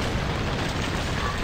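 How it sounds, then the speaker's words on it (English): Magic strikes a stone pillar in the video game The Last Story, setting off a dense, continuous rumbling explosion that fills the whole moment, loud and close with no talk over it. "Yurik, hit that pillar with your magic"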